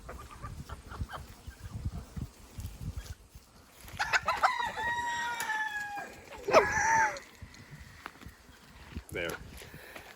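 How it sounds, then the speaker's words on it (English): Hens cluck and a rooster crows on a busy family farm in Canada, the calls loud and close amid rustling, while people talk nearby. "Do you want to try and catch a chicken?"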